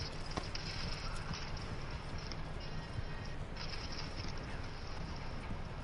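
Horse hooves gallop in Red Dead Redemption 2, a steady rapid clatter running under rushing wind and riding noise throughout.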